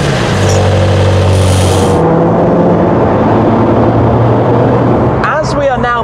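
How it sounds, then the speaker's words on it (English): A McLaren Senna supercar engine driving on the road, a loud, steady mechanical drone with shifting engine tones and a brief rising whine near the end. "The Senna is back to that world of being a little bit too noisy for normal driving."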